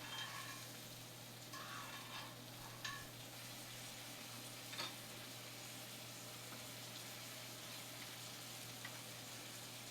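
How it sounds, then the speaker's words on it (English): Steak basting in a tilted pan with melted butter and garlic, a soft continuous sizzle with a few brief clinks and scrapes, moderately quiet and close, no voices. "start basting your steak"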